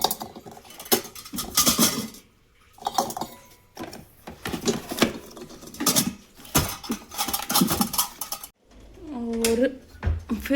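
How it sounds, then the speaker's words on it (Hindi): Steel dishes, pots and cutlery clinking and clattering as they are put away in a home kitchen after washing, irregular metallic knocks and rattles close by, with a voice talking at the end. "और फिर बर्तनों को रखो जगह पे।"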